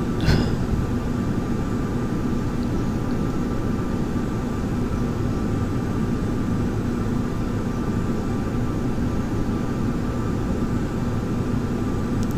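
A-10A jet in a flight simulator climbing, with a steady loud engine drone and roar holding constant throughout, alone with no talk.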